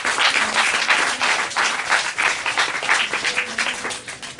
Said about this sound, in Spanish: Dale un fuerte aplauso al Padre por esto,